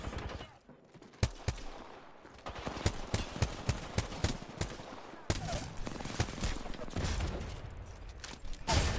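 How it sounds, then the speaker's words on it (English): Apex Legends Arena match, with dense rapid gunfire and a heavy grenade blast booming through the fight, loud, close and continuous, a brief gap before the shooting resumes. "that nade just destroyed us"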